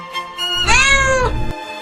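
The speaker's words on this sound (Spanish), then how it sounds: "Un magnífico gato de tamaño notable, completamente negro." A large, completely black cat gives one loud, drawn-out meow up close, rising and then falling away, with soft noises before and after.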